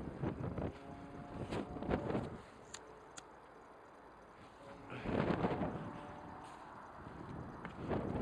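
Gusts of wind on an allotment in January buffet the microphone in loud rumbling bursts, easing into a quieter lull before another strong gust rushes in.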